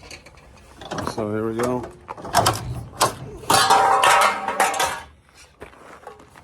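A seamless gutter machine forms 032 aluminum fascia gutter, with metallic clatter and mechanical rattling close by, mixed under someone talking.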